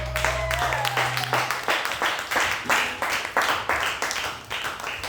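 A church congregation at a worship service clapping together, a dense, rhythmic wash of many hands that rises and falls in steady waves, with a brief low hum and a few voices mixed in at the start.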